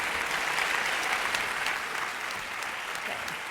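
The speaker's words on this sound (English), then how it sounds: "One last round of applause for our seniors." An audience at a school academic achievers ceremony claps for graduating seniors, dense sustained applause filling the room for a few seconds.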